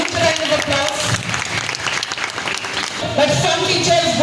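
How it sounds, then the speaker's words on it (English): An audience at a school toppers' felicitation ceremony breaks into sustained, dense applause, with clapping from many hands filling the room throughout. "A huge round of applause."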